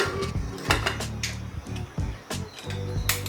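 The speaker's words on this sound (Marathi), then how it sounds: "आता आपण कुकरचं झाकण लावूयात." Metal clatter of a pressure cooker lid being fitted onto a cooker holding dal with salt, turmeric and oil, several short clanks and scrapes close by, with no talking.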